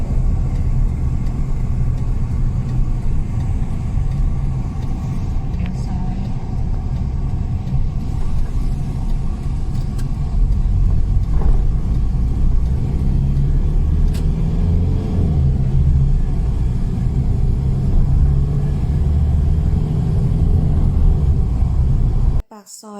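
Car driving along a Thai city street near a shopping area, steady low road rumble and engine drone close by throughout, with faint voices talking underneath.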